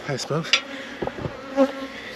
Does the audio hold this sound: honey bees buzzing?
yes